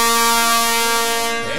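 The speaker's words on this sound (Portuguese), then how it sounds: "Essa é a buzina." A loud air horn sounds at a live pagode show in Boquim, one sustained brassy blast that fades and slides down at the end.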